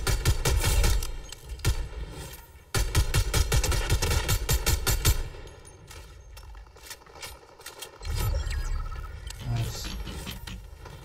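Gunfire in a Fortnite Zero Build match comes in rapid, loud automatic bursts, pauses, then fires again, with a voice briefly heard over the game sound.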